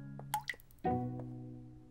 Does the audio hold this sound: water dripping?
yes